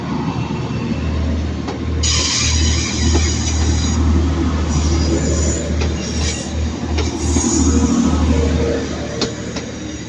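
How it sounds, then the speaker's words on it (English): A Class 156 diesel unit, 156401, rolls into Manchester Piccadilly with a deep engine drone, wheel squeal and rhythmic clatter over the rails, loud and close with no talk. "there is 156401 ex-East Midlands Trains coming in from, I think it's coming from Buxton or Chester"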